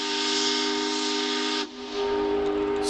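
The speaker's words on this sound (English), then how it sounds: "Shift whistles disappeared." A factory shift whistle blows as one loud, steady steam blast with a brief dip in the middle, then holds on, with no voices around it.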